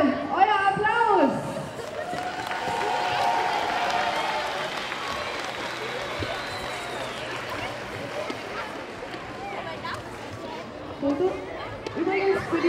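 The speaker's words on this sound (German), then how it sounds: "das ist nochmal euer Applaus." Audience applause at a dance festival award ceremony in Bernau, a broad, steady wash of clapping and crowd noise that swells at the start and holds moderately loud throughout, with voices chattering faintly underneath.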